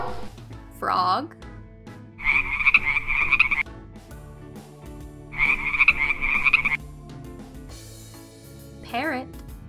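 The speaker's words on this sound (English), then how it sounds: "Frog." A frog croaks in two long rattling trills of rapid pulses, loud and close, with short higher chirps and calls before and after, and no talk over it.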